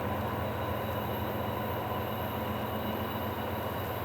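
A southbound freight train, a Z-train, rolls past in a steady, continuous rumble with low droning tones that holds evenly at the same loudness from start to finish, with no talking.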